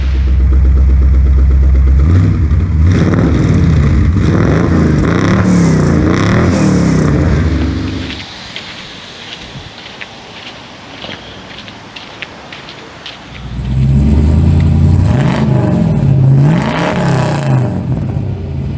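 A rebuilt vehicle's engine runs and revs hard up close for about eight seconds, drops to a quieter idle with light clatter, then roars back up to loud revving near the end.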